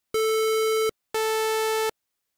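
Two bursts of a buzzy, bright synthesizer tone built from a sawtooth wave sound alone, each lasting under a second and separated by a brief silence.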